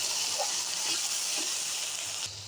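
Blended ginger and garlic paste frying in a pan, a steady close hiss of sizzling with no voices.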